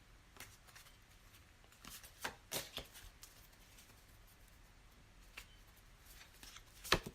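Oracle cards being shuffled by hand during a reading, faint soft rustling and flicking bursts at irregular intervals, with a sharper snap near the end.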